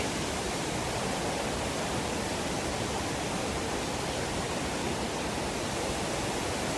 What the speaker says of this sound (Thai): ผมก็อยู่ที่ น้ำตก หลี ผีนะครับ